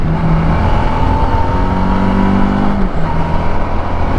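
A 2015 Suzuki V-Strom 650 motorcycle engine idles loudly and close by with a steady, throbbing rumble and slight vibration, its pitch dipping slightly near the end.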